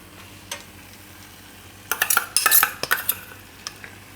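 A spoon stirs cream into a fenugreek and pigeon pea curry in a pot. After a single early clink, a cluster of loud, close metallic scrapes and knocks follows, then a few scattered taps.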